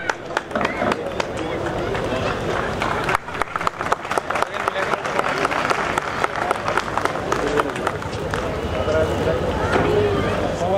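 Audience applause at an Urdu mushaira poetry gathering, dense sustained clapping from a crowd lasting throughout, with voices underneath.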